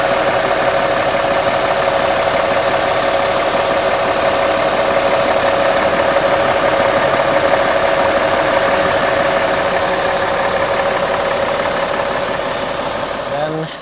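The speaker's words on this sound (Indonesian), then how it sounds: "Ayo kita dengerin suara mesinnya." A bus engine idles steadily with its engine hood open, a loud close mechanical drone with a constant hum and rattling texture that holds unchanged before cutting off at the end.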